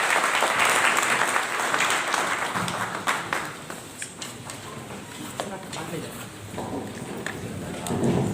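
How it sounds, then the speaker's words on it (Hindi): Audience applause at a political gathering welcoming a BSP state head to speak, a dense, loud burst of clapping that gradually thins and softens, then swells again at the end. "एक बार तालियों से स्वागत कीजिए"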